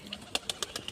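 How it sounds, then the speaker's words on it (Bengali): A long-bodied female pigeon with a black banded tail calls in a short series of soft, evenly spaced coos, close and fairly quiet, alone without talk. "খুবই লং সাইজের একটা পায়রা"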